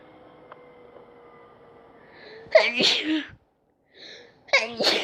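A single sharp sneeze bursts out after a quiet stretch, followed by a brief pause and then another short vocal burst, close to the listener.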